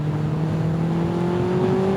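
A Suzuki Hayabusa motorcycle engine pulls hard in fourth gear, a loud, steady drone whose pitch climbs smoothly as it accelerates, with no talk.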